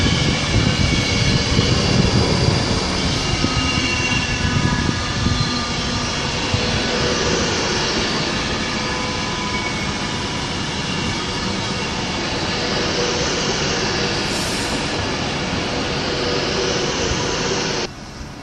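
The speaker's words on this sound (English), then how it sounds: "And now departing is 390-050 with the 1420 Virgin Trains Penalino service to London Euston" Virgin Trains Pendolino 390050 pulling out of Birmingham International for London Euston, a loud, steady electric whine and rolling rumble that holds close and even, with no voices over it.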